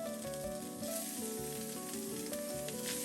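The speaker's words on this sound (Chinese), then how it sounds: "黑豆豉香味出来后，就加入韭菜花。" Fermented black beans and chive flowers stir-fry in a wok over low heat. A steady, close sizzle runs throughout, with soft scraping strokes of the spatula mixing in and no voices.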